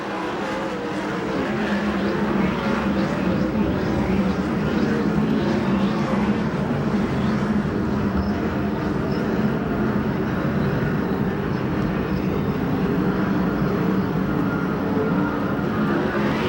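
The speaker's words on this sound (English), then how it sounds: "Here comes that number 44 car. That's the yellow and red car." USAC/CRA sprint race cars at Perris roar continuously at full volume, several engines overlapping in a dense, steady howl with rising whines as cars pass, loud and close with no pause.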